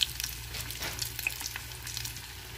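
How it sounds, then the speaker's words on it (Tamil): Chicken nuggets fry in hot oil at medium flame, giving a steady close sizzle with occasional bubbling pops and stirring noises, and nobody talking. "நான் மீடியம் ஜோரில் ஃப்ரை ஆக்கிடுறேன்"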